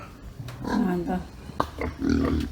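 Low, rough grunts from a pregnant sow come in short bursts close by, with a few sharper snorts mixed in.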